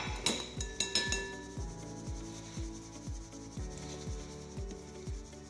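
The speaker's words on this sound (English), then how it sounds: "I'm going to sift it because it's a bit lumpy today" Custard powder and icing sugar being sifted through a sieve: a steady run of soft rhythmic taps and scratchy rubs about twice a second, close and fairly quiet.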